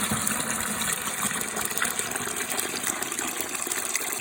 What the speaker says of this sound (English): Clean water goes in there. Dirty water comes out.